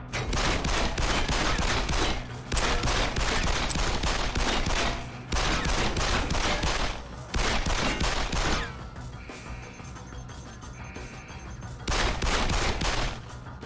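A machine pistol fires in the video game Deus Ex: Human Revolution, loud close bursts of rapid automatic fire lasting a second or two each, separated by short gaps and a quieter stretch.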